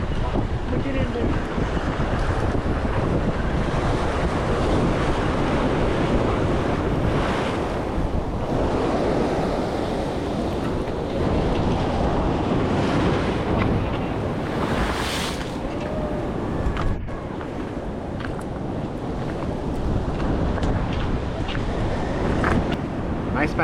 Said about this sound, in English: It's a bit windy, a bit choppy out there, a bit sporty